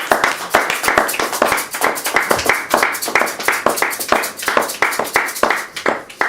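A church congregation claps loudly in a steady, quick rhythm to acclaim the Lord, the repeated hand claps close and continuous throughout.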